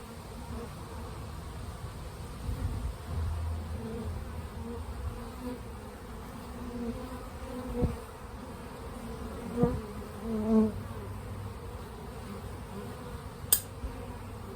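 Honey bees buzz steadily around an open hive during an apprentice inspection, a dense continuous hum close to the listener, broken by a few soft knocks and handling sounds, with no voices.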